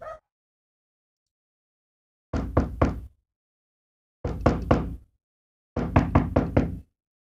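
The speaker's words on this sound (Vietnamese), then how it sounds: "bất thình lình có tiếng đập cửa liên hồi" Three separate bursts of loud, rapid banging on a door, each a quick cluster of three or four heavy knocks, spaced by brief silences, close and sharp with no voices.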